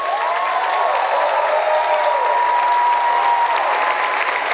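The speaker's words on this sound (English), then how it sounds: "Please applaud them as I call them out." A crowd applauds early childhood educators as their names are called, giving steady, loud, sustained clapping with no talking over it.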